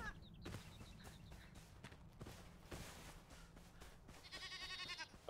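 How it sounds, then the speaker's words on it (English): A goat in the survival video game Enshrouded bleats with a short, wavering cry near the end, following soft footsteps and ambient game sounds, with no talking. "Goat. I don't want to kill it yet."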